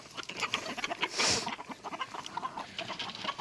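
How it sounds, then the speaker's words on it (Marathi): Several free-range native hens on a Konkan poultry farm in Ratnagiri cluck and chatter close by in short, overlapping bursts, a busy farmyard murmur with a louder squawk partway through. "इकडे पण येतात कोंबड्या"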